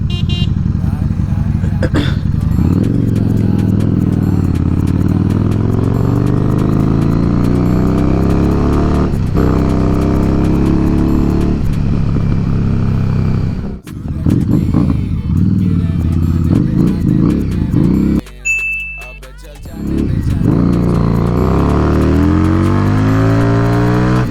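A Harley-Davidson Street 750 with a Vance & Hines exhaust revs hard and close by, its loud rumbling roar rising and falling through repeated throttle blips, with brief drops to idle and one short cut near the end.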